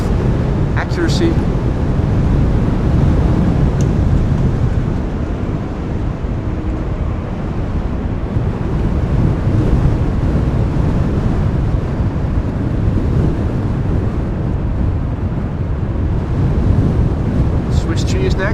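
Strong gusting wind at Amsterdam Schiphol Airport during Storm Lilian, a loud, steady roar buffeting the microphone throughout with rumbling low-end noise and no pauses.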